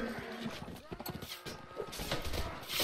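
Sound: horse galloping and neighing in Mount & Blade Warband video game

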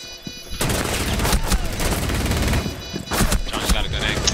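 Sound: gunfire in a video game (Rainbow Six Siege)

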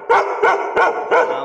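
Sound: Bhote (Nepali mountain) dog barking

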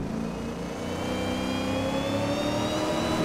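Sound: Ford Mustang Boss 302 engine revving, Assetto Corsa video game

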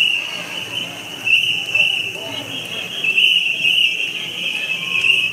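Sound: whistles blowing at a Tokyo summer festival

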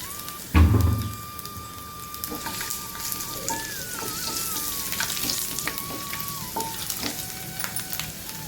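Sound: garlic frying in oil for medicinal kuzhambu

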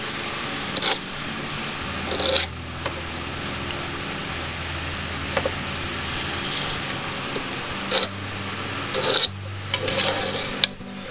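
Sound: hand saw cutting fret slots in guitar fingerboard wood

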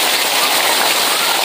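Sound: heavy rain

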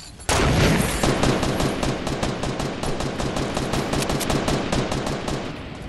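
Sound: gunfire in the video game Fortnite

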